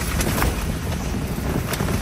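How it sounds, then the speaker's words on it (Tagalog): Strong outdoor wind gusts past a greenhouse and buffets the microphone, producing a steady, loud broadband roar that lasts the whole moment with no pauses. "napakalakas ng hangin guys"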